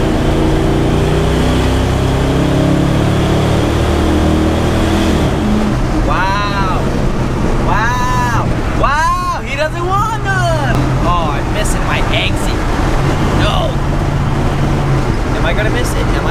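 An LS-swapped Chevrolet C10 truck accelerating hard, its engine roaring steadily and loud throughout, with wind and road noise and a voice talking over it partway through.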